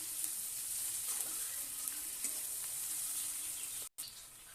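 A quiet, steady sizzle of garlic paste frying in a pan with fried onions, with faint stirring clicks and a brief dropout near the end.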